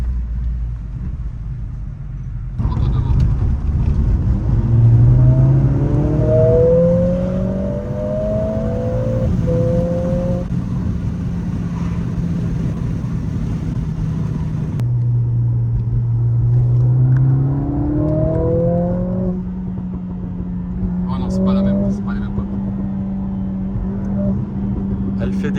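A Mercedes CLA 45 S AMG revs and accelerates through several gear changes, its engine note rising and dropping with crackling exhaust pops between shifts, loud and close, while a person talks over it.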